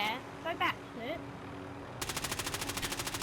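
Rapid machine gun fire aimed at an enemy helicopter in the Warzone video game, a tight, fast burst of evenly spaced shots after a brief stretch of muffled voices and game noise.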